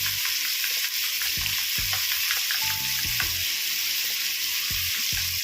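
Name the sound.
stirring paneer masala and turmeric frying in pan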